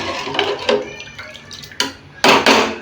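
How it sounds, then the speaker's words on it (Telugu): Salt being stirred into cooked dal in a pot with a spoon, giving scattered scraping and knocking clinks, with two louder clattering bursts near the end and no talk. "కొంచెం సాల్ట్ వేసుకొని మంచిగా కలుపుకున్నాము"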